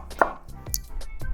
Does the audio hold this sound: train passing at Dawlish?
no